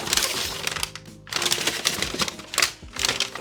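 A large folded paper instruction sheet from a Casio F91W watch box being unfolded, crisp rustling and crackling in several bursts with a brief pause, close and fairly quiet.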